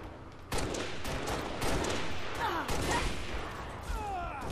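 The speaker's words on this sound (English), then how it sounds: "Who's shooting me now?" Gunfire in the Halo video game, a loud volley of sharp repeated shots in several bursts, closely spaced with a sustained rumble between them, with brief whooshing effects near the end.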